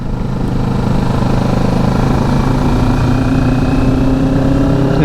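Kawasaki Ninja 650 motorcycle engine running steadily while riding, a loud continuous drone with a sustained tone throughout and no talk.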